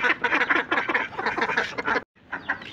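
Several ducks quack in rapid, overlapping bursts close by, a busy chorus with a brief pause near the end before quacking resumes.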